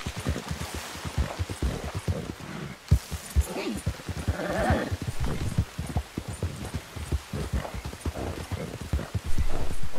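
Horse hooves clip-clopping at a steady walking rhythm in the Red Dead Redemption II video game, close and continuous with faint ambient game sound underneath.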